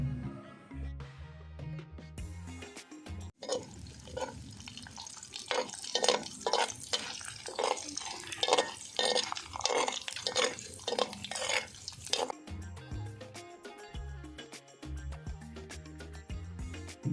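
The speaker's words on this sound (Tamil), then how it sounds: "நல்லா வறுபடட்டுங்க." Mustard seeds, urad dal and chana dal sizzle and crackle steadily in hot oil for about nine seconds with scattered pops, while soft stirring and background music surround the frying.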